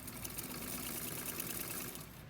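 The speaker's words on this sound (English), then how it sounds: "now I can sew in any direction by just simply moving the fabric only" A vintage Sears Kenmore 15812000 sewing machine stitches fabric with a rapid, continuous mechanical whir and fine clatter, steady and close throughout without pause.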